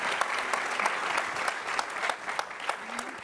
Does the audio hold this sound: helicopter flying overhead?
no